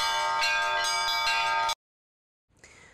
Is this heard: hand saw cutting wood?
no